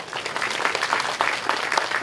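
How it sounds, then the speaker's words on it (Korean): Brief applause for provincial council members at a groundbreaking ceremony for a food-tech robotics research centre, a moderate crowd clapping steadily with a few claps popping out. "여기도 박수 보내주시죠."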